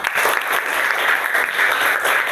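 Primary school pupils in a classroom clap together in a loud, dense burst of applause that fills the whole moment without talk.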